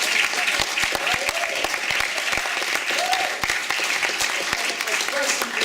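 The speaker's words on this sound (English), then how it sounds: "clap for yourself." An audience at a college creative arts festival keeps up steady applause, a dense wash of clapping with scattered sharper claps near the front, and voices murmur beneath it.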